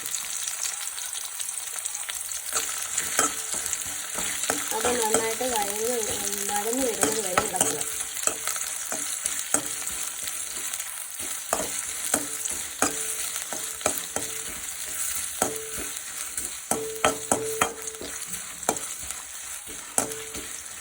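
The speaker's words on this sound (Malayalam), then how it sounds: "സവാള നന്നായിട്ട് മൂത്ത് കഴിയുമ്പോൾ അതിലേക്ക് നമ്മുടെ ഉള്ളിത്തൻ ഇട്ട് കൊടുക്കുക" Chopped onion sizzles steadily in a pan for a ciderable stretch, with a constant bright frying hiss and intermittent clicks and scrapes of a spoon stirring, plus a brief tonal squeak partway through.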